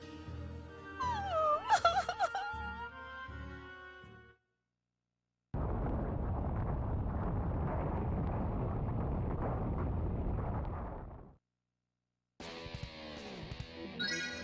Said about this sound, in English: Nah, that sounded like an explosion.